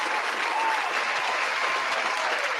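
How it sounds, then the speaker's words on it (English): A room full of people claps in a steady, dense round of applause during a football preview show, sustained and even throughout with no pauses. "Round of applause to Miriah while she gets that link going on."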